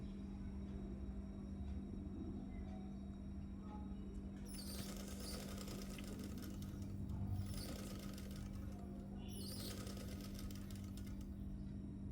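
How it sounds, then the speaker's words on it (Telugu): A sewing machine stitches thread piping onto the main cloth of a blouse at a half-inch margin, with three bursts of close, steady mechanical whirring between quieter gaps over a low background hum. "హాఫ్ ఇంచు మార్జంతో నేను స్టిచ్ వేసుకుంటున్నాను మెయిన్ క్లాత్కి పైపింగ్ జాయిన్ చేసుకుంటున్నాను"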